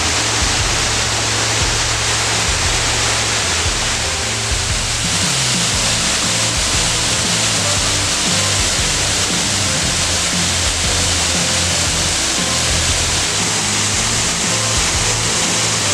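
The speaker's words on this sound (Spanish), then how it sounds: "Esta cascada está en la parte superior del río Zacate" A loud, constant roar of falling water from a waterfall on the upper Zacate River in Oaxaca, Mexico, fills the scene, steady and close with no breaks.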